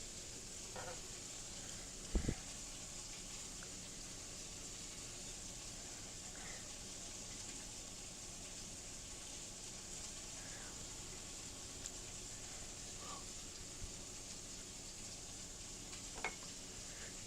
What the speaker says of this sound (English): You're hearing chicken frying